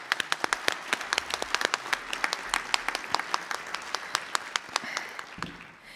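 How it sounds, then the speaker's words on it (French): Audience applause at the awards ceremony of an Italian film festival in Villerupt: a modest crowd clapping, individual sharp claps clearly distinct and irregular, steady for several seconds before fading out. "je voudrais les applaudir."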